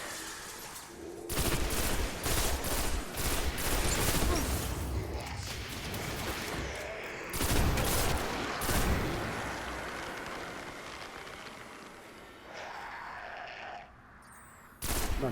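Rapid gunfire from the shooter video game Destiny 1 crackles in dense bursts and volleys, pausing briefly between barrages, with faint bits of talk underneath.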